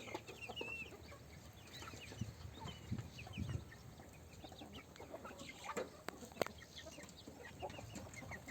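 A flock of guinea fowl clucks and chatters continuously while feeding, with sharp pecking taps scattered throughout, fairly quiet and nearby.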